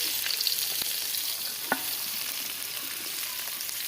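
Onions frying in a pan for Bengali mutton kosha give a steady, close sizzle throughout, with a couple of sharp clicks from stirring and no talking.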